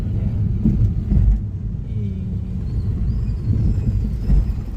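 A car rumbles past at the Kenya–Tanzania border crossing, a low steady engine and tire roar that swells and fades close by, with faint voices in the background.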